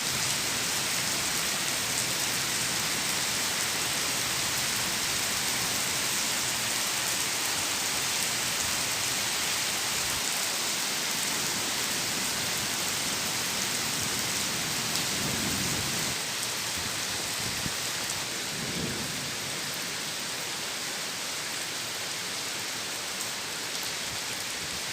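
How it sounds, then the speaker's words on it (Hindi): Heavy nighttime rain pours down in Ahmedabad, India, a dense, steady hiss that fills the whole stretch, with low rolls of thunder swelling briefly near the end. "देखिए नज़ारा अहमदाबाद की बारिश का।"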